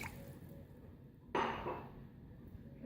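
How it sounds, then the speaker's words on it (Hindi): A cup of water poured into a karahi pot of mutton and yogurt, a sudden broad splashing rush that starts about midway, close and fairly loud, then tails off into a bubbling sizzle. "1 कप पानी शामिल करेंगे।"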